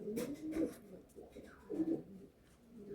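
Andhra pigeons coo in soft, low bursts at a pigeon sale, a few rounded calls repeated close by at modest volume.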